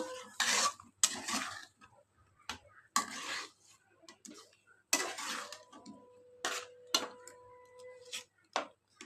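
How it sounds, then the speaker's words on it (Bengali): Potatoes with Kashmiri chili powder, turmeric, salt and a little sugar are stirred and fried in a pan for a mutton fat dish, giving close, irregular bursts of spoon scraping and clatter with short pauses between strokes. "এবারে এই আলুর সঙ্গে পুরো মিশিয়ে এটাকে কষাবো"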